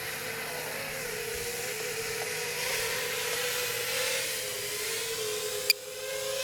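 A Mars lander model aircraft descends in flight, its motor giving a steady, fairly loud whine and hiss with a sustained hum that hold throughout, broken by one brief click near the end.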